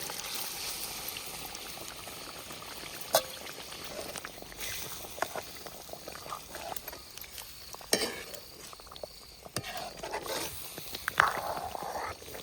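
Quail meat cooks in a spiced masala in a pot over a village wood-fired clay stove, bubbling and sizzling steadily with occasional stirring clinks and scrapes, fairly quiet throughout.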